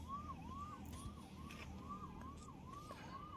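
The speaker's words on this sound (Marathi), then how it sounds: "पोलिसांचा सायरन वाजतोय." A police siren wails in a steady rising-and-falling cycle, repeating about every half second over a low rumble of traffic, moderately loud and fairly close, with no talking.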